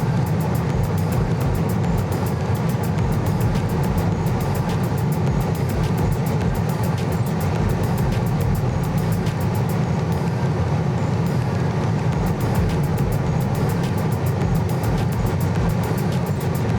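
A red Tesla Model 3 electric car accelerates toward about 155 mph, giving a steady, loud cabin drone of road and wind roar that stays constant throughout, with no voices.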